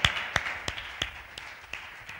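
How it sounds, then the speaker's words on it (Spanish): A church congregation applauds in a sparse, rhythmic series of claps, roughly three per second, moderately near and fairly soft, with no voices over them. "dale un aplauso al Señor"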